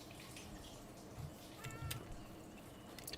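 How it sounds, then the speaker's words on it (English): A cat meows in a video game, a few short, soft calls heard faintly over a steady background hiss with no talking. "Oh, it's a kitty."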